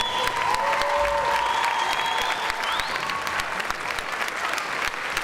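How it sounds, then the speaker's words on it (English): An audience at a veterans concert applauds, a dense, steady clapping from a large crowd with a few faint cheers, sustained throughout. "let's give them a big round of applause as well"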